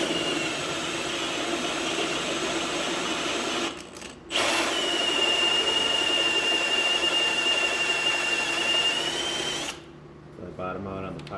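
A power drill enlarges a hole in a Northstar engine part on an Eldorado, whining steadily at close range and pausing briefly twice.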